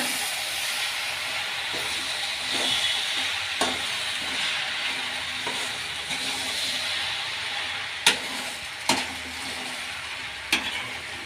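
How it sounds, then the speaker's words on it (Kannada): Tomato being stirred into frying potato and fenugreek leaf curry in a pan, with a steady hiss of frying under the stirring and several sharp clacks of the spoon hitting the pan. "ಈಗ ಟೊಮೊಟೊ ಸೇರಿಸ್ಕೊಳ್ಳೋಣ. ಈಗ ಮಿಕ್ಸ್ ಮಾಡ್ಕೊಳ್ಳೋಣ."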